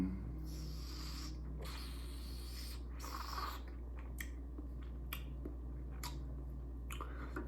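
Quiet mouth and sipping sounds as someone tastes a Burgundy red wine: several soft broadband slurps and smacks in the first few seconds, then faint clicks and small mouth noises over a low steady hum, with no talking.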